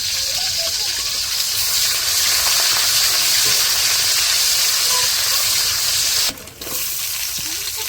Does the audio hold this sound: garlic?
yes